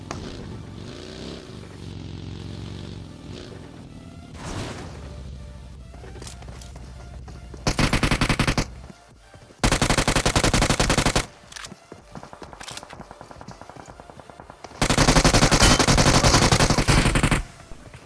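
Gunfire in a battle royale mobile game, with several loud sustained bursts of automatic fire broken by quieter gaps with scattered shots and movement sounds.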